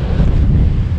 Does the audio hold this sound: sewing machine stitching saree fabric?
no